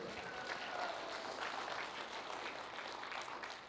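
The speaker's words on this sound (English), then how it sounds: "Now you can cheer." Church congregation applauding and cheering in a sanctuary, a dense, even wash of clapping that sustains for several seconds at a faint, distant level.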